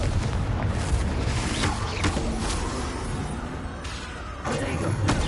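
Fiery Confringo spell blasts in Hogwarts Legacy, a dense, rumbling burst of booming explosions that roars continuously with a few sharper cracks, loud and close throughout.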